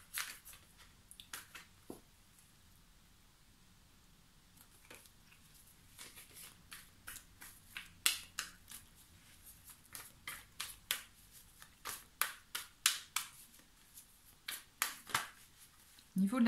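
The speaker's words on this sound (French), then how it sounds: "je vais tirer des cartes du tarot Chosen" Tarot cards from the Chosen deck being shuffled and drawn, giving sparse snappy card flicks and riffles that grow denser and louder toward the end, with quiet pauses between them.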